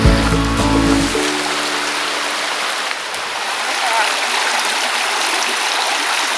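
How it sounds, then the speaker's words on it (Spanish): Río Higuerón flows over a shallow, gently sloping riverbed, a loud steady broadband rush of moving water heard up close, with a brief voice or tonal sound only in the opening second. "aquí el caudal corre con menos brío, la pendiente es poco pronunciada y el río no tiene apenas profundidad"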